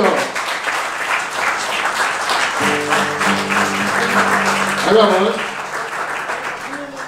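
An audience claps to welcome performers at a folk music festival night, sustained applause running throughout while a held musical tone and voices sound over it partway through.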